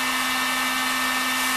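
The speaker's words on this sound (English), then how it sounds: "get yourself a heat gun, you heat it up" A heat gun warms a lure mold, giving a short, steady blowing hiss with a constant motor hum.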